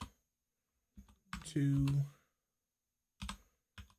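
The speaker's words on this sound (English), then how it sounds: "So I'm just gonna type in text to" Brief bursts of computer keyboard typing, a few separate clusters of clicks spread across the moment, mostly quiet between them, with a voice speaking over part of it.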